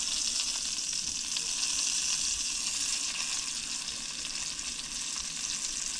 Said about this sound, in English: Grease is probably hot. I hear it sizzling.